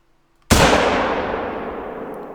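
A single loud rifle shot rings out at a bull moose in theHunter: Call of the Wild, a sharp crack followed by a long, slowly fading rolling echo across the Medved Taiga terrain.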